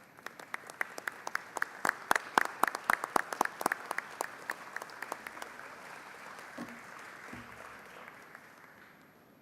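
Applause in the Texas House chamber, a burst of many hands clapping that swells briefly and then thins out, leaving a soft room murmur.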